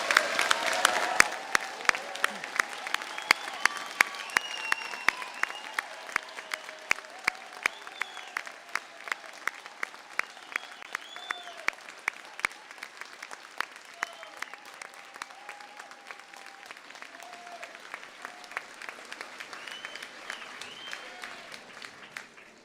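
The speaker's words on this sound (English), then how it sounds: "Please can I ask everyone to join me in a round of applause for our graduates today." Sustained audience applause for graduates at a University of Salford winter graduation ceremony, a dense wash of many hands clapping with sharp individual claps standing out, steady over twenty seconds and easing slightly toward the end.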